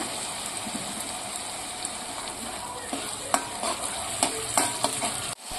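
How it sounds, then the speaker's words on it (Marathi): Tomato puree and green chillies for an egg masala curry sizzle steadily in a hot pan, with a spoon stirring and scraping in close, irregular strokes throughout, with no voices. "आता घालून घेऊया टोमॅटोची प्युरी. दोन हिरव्या मिरच्या,"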